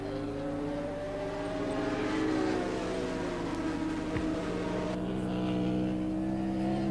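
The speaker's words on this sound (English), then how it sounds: "it's the 3-cylinder water-cooled 2-stroke of Wayne Gardner, the Honda, leading 1000cc air-cooled Suzuki" A Honda three-cylinder water-cooled two-stroke racing motorcycle at Oran Park howls at a sustained, high pitch as it leads a 1000cc air-cooled Suzuki. The engine note rises and falls slightly, and a brief sharp crack cuts in midway.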